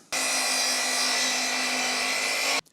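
A power saw cuts a wooden board for a workbench in one continuous pass: a loud, even, high-pitched whine that starts abruptly, holds for about two and a half seconds, then stops sharply.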